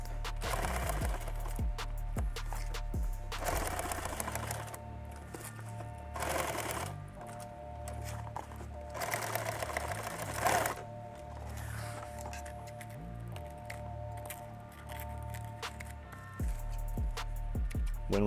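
Sewing machine stitching a label onto a tactical coffee pouch. It runs in several loud bursts of rapid needle clatter, separated by short pauses, with handling noises between runs.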